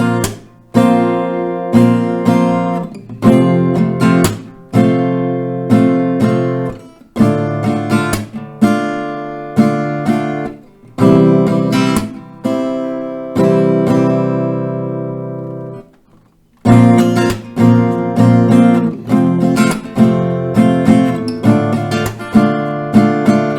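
Slow chord progression strummed on an acoustic guitar, each chord ringing out in a steady, unhurried rhythm with a few sustained passages and a short pause before strumming resumes.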